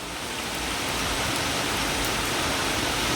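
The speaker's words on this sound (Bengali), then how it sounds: "এখন আবার জোরে আসলো বৃষ্টিটা।" Rain pours more heavily outdoors, a dense, loud, steady hiss of drops on surfaces that swells slightly and continues without pause.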